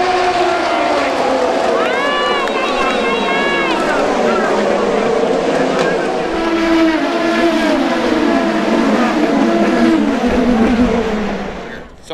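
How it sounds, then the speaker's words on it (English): IndyCar race cars at the Long Beach Grand Prix scream past in a continuous loud roar, with rising and falling engine whines overlapping for about twelve seconds before fading slightly at the end. "The IndyCar race is about to start."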